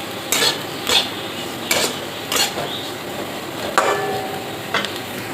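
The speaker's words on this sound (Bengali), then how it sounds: "আস্তে আস্তে গ্যাস কমিয়ে ভাজতে হয় আলু ভাজা" Potatoes frying in a pan over lowered gas heat, stirred with a utensil: a steady soft sizzle with about six distinct scraping clinks of the spatula against the pan at irregular intervals, close by, no talk.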